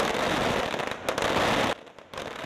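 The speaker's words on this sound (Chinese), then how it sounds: "炮声隆隆叫" Dense bursts of firecrackers explode loud and close at the Taitung Handan festival during Lantern Festival celebrations, a continuous crackling barrage that cuts off abruptly before resuming briefly.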